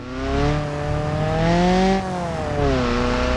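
Car engine in the BeamNG driving game running with a damaged exhaust pipe, a loud, raspy, harmonic drone that climbs, dips and climbs again as the revs change, heard alone.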